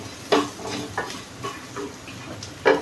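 Masala with chilli frying in a pan for an eggplant and chana dal curry, giving a close sizzle broken by several sharp stirring scrapes and clatters, with no voice.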